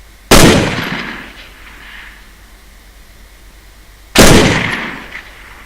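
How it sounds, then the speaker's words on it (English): Two loud rifle shots fired at a deliberate rate during basic recruit training, each a sharp crack with a trailing decay, spaced about four seconds apart with quiet between them. "The second rate of fire that we have is called deliberate, which is 1 round every 6 seconds, which Stu's now going to demonstrate."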